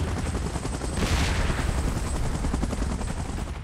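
A helicopter hovers in position, its rotor producing a steady, loud, dense thumping drone that fills the scene without pause, with a brief rushing swell near the start.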